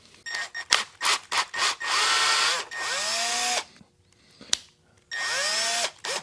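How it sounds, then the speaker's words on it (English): A power drill spins a wooden dowel blank chucked in its jaws, whirring up in short bursts and longer sustained runs with rising and falling pitch, separated by brief pauses and clicks. "I'll chuck this in the drill."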